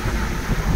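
Rain falling in a coastal park in Davao City, a dense, steady hiss and patter with low rumbling wind buffeting the microphone, close and continuous.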